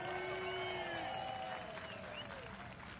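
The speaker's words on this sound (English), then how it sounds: "Let's give a round of applause for free arts in New York City." Audience applause at an outdoor free arts performance on a New York City lawn, a spread of clapping and crowd noise under whistles or cheers, fairly distant and steady.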